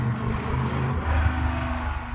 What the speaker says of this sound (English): there's a motorcycle in the neighborhood.